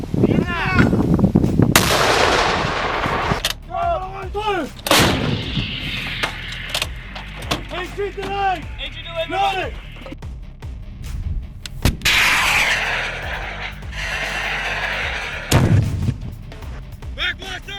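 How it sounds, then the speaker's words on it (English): A mortar round fired during a Ukrainian combat engagement: several loud, sharp blasts spread across the stretch, one heavy thump early on and more booms later, mixed with shouted commands, radio-like chatter and battlefield noise. "Одну міну, вогонь!"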